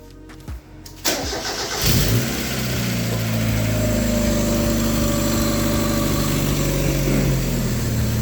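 Mazda Miata fitted with a makeshift cold air intake cranks over briefly and fires up for its first start, then settles into a steady, close idle with a low hum for the rest of the clip.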